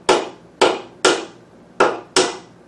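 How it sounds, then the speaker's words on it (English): A carpenter's claw hammer strikes brass rivets during brake repair on a Bolens 650. It gives five sharp, loud metallic blows at an uneven, steady pace, each ringing briefly before the next. "I certainly don't think a carpenter's claw hammer is the appropriate tool here, but it's what I've got"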